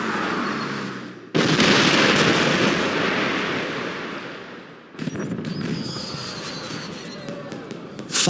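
Fireworks bursting in the James Bond 007: Blood Stone video game, with a loud sustained crackling roar that cuts out, then resumes with sharp popping bursts and whistling streaks near the end.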